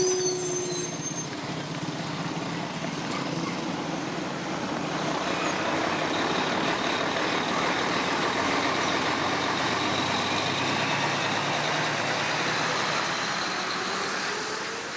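A truck's engine runs steadily on a road in Cameroon near Douala, a continuous heavy drone that holds at an even level with no pauses and no voices.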